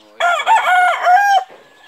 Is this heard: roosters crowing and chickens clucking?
yes